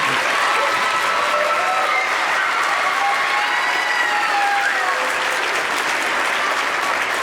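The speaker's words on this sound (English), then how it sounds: "can we get a round of applause for the band?" Graduation audience applauding the band at a Polo Community High School ceremony, a steady, dense wash of clapping from a large crowd that holds loud and even for the whole stretch, with faint voices and cheers mixed in.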